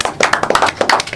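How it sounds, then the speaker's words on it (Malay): A short burst of studio crew applause, several hands clapping quickly and unevenly at close range, bright and sharp for about a second with no talking. "Untuk kita berikan tepukan lah untuk Base TV ya."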